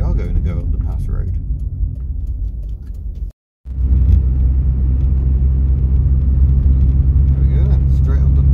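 A cheap Rover CityRover hatchback climbs a pass road through the Peak District, its engine a loud, steady low rumble heard from inside the cabin. The rumble breaks off for a moment, then comes back just as strong.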